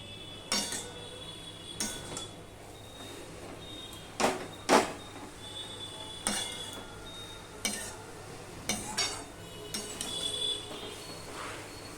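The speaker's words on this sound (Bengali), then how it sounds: "এবার সবজিটা আমি একটুখানি শাক পাতাটা একটু উপর নিচ করে দিচ্ছি।" Greens with mung dal get turned over in a pan, a string of sharp intermittent clinks and scrapes of a utensil against the metal over a quiet background.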